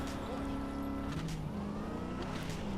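A car driven in the video game Cyberpunk 2077 on Nintendo Switch 2, its engine holding a steady, loud hum with a pitch that dips and rises as the car moves through traffic.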